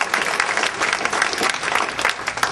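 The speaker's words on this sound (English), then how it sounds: "Would you guys please just give my team a round of applause?" Audience applause fills the hall at the 2012 Idaho State Democratic Convention, a steady, dense wash of clapping that holds for the whole stretch without a break.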